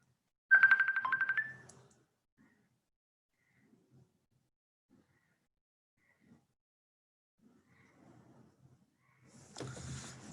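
A phone ringtone goes off during a veterinary lecture on meat hygiene: a short, bright, rapidly pulsed trill lasting about a second. Near silence follows, with faint scattered noises and a louder rustle at the end.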